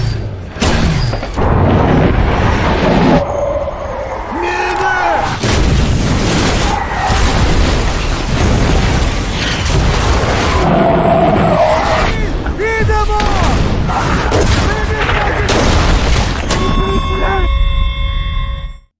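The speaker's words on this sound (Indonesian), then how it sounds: "Situasi kembali mencekam saat pasukan musuh menyerang mereka dengan serangan mortir." Mortar shells burst one after another in a war film battle, heavy booms and cracking impacts repeating loudly across the scene with dense rumbling between blasts.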